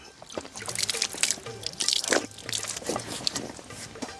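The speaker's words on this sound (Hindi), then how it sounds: "हां हम पानी डाल बताइए" Water poured into a bucket outdoors, a continuous splashing trickle with scattered drips and gurgles running throughout, fairly faint and close.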